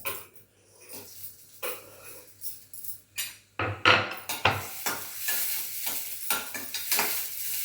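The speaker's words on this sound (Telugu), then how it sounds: "ఆయిల్ వేడెక్కిన తర్వాత ఉల్లి పచ్చిమిర్చి అందులో వేసుకొని వేగనివ్వాలి." Onion and green chillies fry in hot oil in a pan, with repeated scraping stirs and bursts of sizzling that grow louder and busier toward the end.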